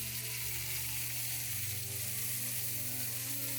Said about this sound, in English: just some beautiful steaks outside on our cast iron here